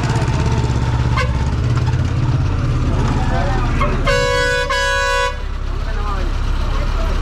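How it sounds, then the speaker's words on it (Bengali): A long-distance bus on a Kolkata to Darjeeling route sounds its horn, one loud blaring blast of a little over a second over a rumbling idling engine while someone talks. "ড্রাইভার চলে এসছে, হর্ন দিচ্ছে।"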